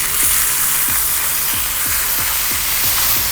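Beef slices stir-frying in a hot oiled wok for Korean japchae, a loud steady sizzle and hiss with rhythmic low scraping thumps from the spatula roughly every third of a second, with nobody speaking.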